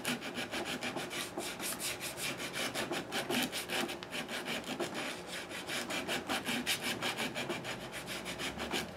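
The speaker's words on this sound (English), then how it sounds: "With a scraper, I can scrape that last inch or so and get that neck to shift ever so slightly to the base side of the socket" A hand scraper works the wood inside the neck socket of a solid rosewood guitar body, making close, steady, rhythmic rasping strokes in an even back-and-forth pattern, with no voices.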